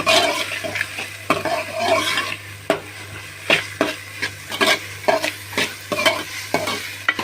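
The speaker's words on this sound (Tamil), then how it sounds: "வெங்காயம் நல்லா வதங்கட்டும்." Onions sautéing in a pan for a coconut kara kuzhambu, a steady soft sizzle broken by a series of sharp scraping strokes from stirring, close and without talk.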